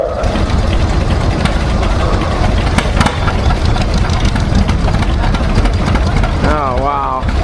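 A John Deere tractor engine chugs steadily at low speed during a slow race at an expo, loud and close, with an announcer talking over it.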